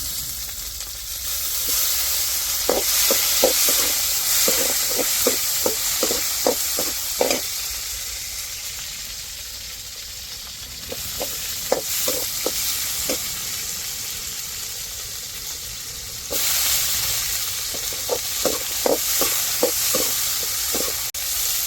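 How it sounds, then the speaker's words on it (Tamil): Loud continuous sizzling of tomato and chili tempering in hot oil for a fish curry, with repeated spoon taps and stirring clatter against the pan at intervals. "நம்ம தாளிக்கும் போது தக்காளி மிளகாயும் சேர்த்து தாளிச்சிடுவோம்"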